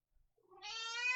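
A pet cat lets out a single drawn-out, rising meow indoors, close and clear, preceded by a few faint soft sounds and heard alone without talk.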